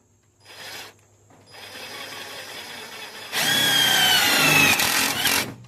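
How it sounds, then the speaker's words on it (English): A 2002 GMC Sierra gets a self-tapping screw driven in by an impact driver: a short motor whir, a pause, then a loud close burst of rapid hammering as the screw seats, with no one talking. "So we'll take us a self-tapping screw here. And an impact. And run us a screw in there."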